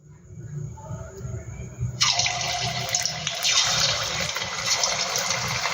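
Potato snacks drop into hot oil, which bursts into a loud hissing, bubbling fry that holds steady after a faint murmur at the start.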